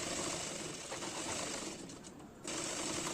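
Sewing machine stitching the neckline of a cotton nighty, a steady continuous whir running close and fairly loud, briefly dipping quieter near the end before resuming.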